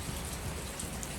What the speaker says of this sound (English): The rain is like hitting my face now.